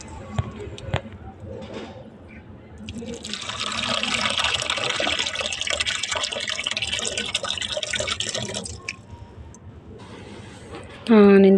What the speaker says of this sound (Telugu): దాంట్లో కూడా వాటర్ అయితే పడదాం.